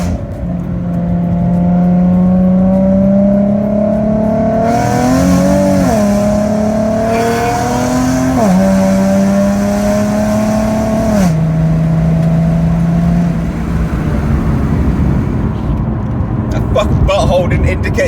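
A Nissan Pulsar GTiR driving on the M4 motorway, its engine rising in pitch through several gear pulls with brief dips at each shift, loud and close inside the cabin, then easing to a lower drone.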